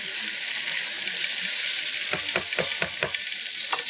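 Boiled chickpeas stirred into masala frying in a pan for Bohri-style batata, a steady hiss of sizzling oil throughout, joined midway by a run of close, rhythmic scraping stirs.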